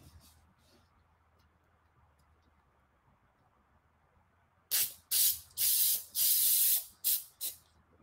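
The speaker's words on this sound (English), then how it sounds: "you take your spray adhesive" After a quiet stretch, a spray adhesive can hisses in six short bursts of varying length, close and sharp.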